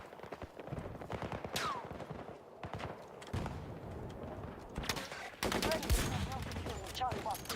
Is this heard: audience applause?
no